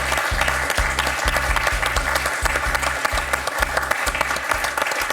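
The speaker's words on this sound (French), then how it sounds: "Et un point pour Thérèse qu'on peut applaudir." Studio audience applauding on a French TV quiz show, a steady, loud, continuous clapping that fills the whole stretch, with no speech over it.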